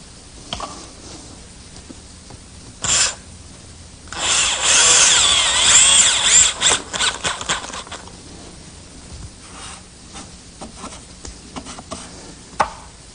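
A power drill whirs in short bursts, one longer run in the middle driving a self-drilling screw into wood, with light tapping and quiet handling between.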